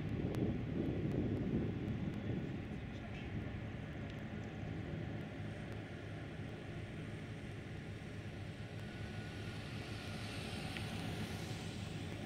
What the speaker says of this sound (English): The A400M, the Atlas.